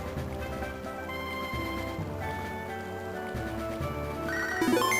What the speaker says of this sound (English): We're not going to answer that phone call from our mum.